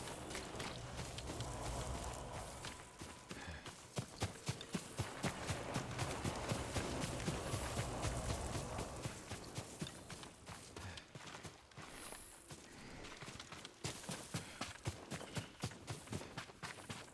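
Horse hooves in Ghost of Tsushima clip-clop in a quick rhythmic gallop, steady and fairly close, with a wash of background ambience and no voices.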